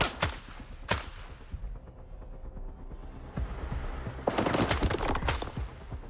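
Gunfire in S.T.A.L.K.E.R. 2, including headshots: two sharp shots open the clip, a single crack follows mid-way, then a dense burst of rapid shots near the end, over a low game ambience.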